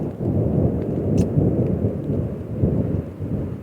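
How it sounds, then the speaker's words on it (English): Steady, dense rain pours continuously with a deep rumble of thunder underneath, loud and enveloping, no voices. "Clearly it's raining."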